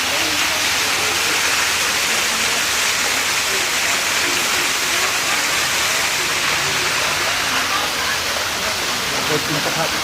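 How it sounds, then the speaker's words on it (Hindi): Restaurant waterfall in Bageshwar, a loud, dense and continuous rush of falling water that fills the whole stretch with no pauses. "सब झरना उरना लगा हुआ है पानी का। ये देखें, पानी की आवाज़ बेहतरीन आ रही है।"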